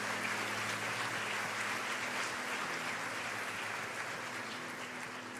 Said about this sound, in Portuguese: Uma salva de palmas para o Senhor, queridos